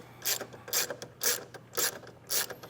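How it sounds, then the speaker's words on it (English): A ratchet wrench with a 10 mm socket backs a nut off a car battery terminal, giving five short, even bursts of clicking with brief pauses between them, close and fairly quiet, with no talking. "we're going to start by removing this nut that connects to this plate"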